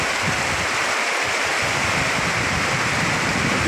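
Heavy rain pours down steadily on an Eid day, a dense, loud, continuous roar with no break, near and unvarying throughout.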